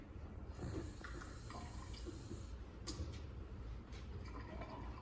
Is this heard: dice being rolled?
no